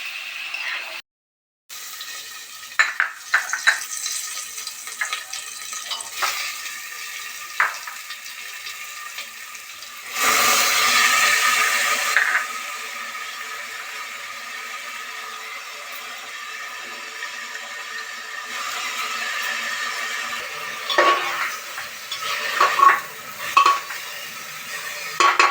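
Washed, drained fine rice fries in a pan while being stirred, giving intermittent scraping and clinks over a soft sizzle, with a louder hissing burst midway; no speech.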